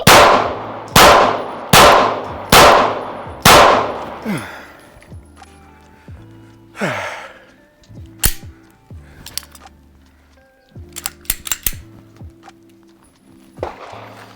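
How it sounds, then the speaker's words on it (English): Four rapid pistol shots from a compact Glock 43X, Sig P365XL or Hellcat Pro fired at a target, evenly spaced and loud, with their echoes decaying, followed by scattered clanks and handling noises. "We're gonna move back and try to get 4 more shots into the A zone as quickly as possible."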